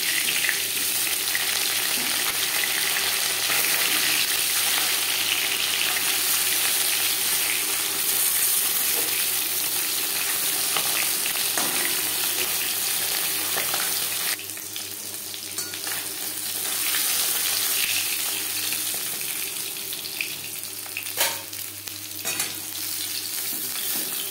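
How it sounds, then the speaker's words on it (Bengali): Steady, loud sizzling of rohu fish frying in hot oil, continuous throughout with occasional crackles and a brief shift in intensity midway. "মাছ একটা সাইড ভাজা হয়ে গেলে অপর সাইডটা উল্টে দেবে।"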